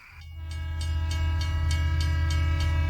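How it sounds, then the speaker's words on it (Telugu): A train rolls past close by, a loud, steady rumble with a sustained droning hum that swells in the first moment and then holds level throughout, with no voices. "ట్రైన్ సౌండ్ వస్తుంది చూడు"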